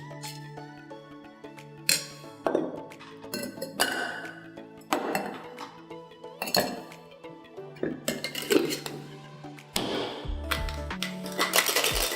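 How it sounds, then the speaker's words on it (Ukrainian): Ice cubes clatter and clink into a metal shaker and glass while a Whiskey Sour is being made, a run of sharp, close knocks and rattles in irregular bursts with no talking. "І тепер додаємо лід."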